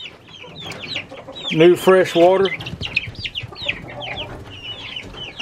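Chickens clucking and squawking around feeding time on a small farm, rapid overlapping calls near and far, with a loud drawn-out call in the middle and a person speaking briefly.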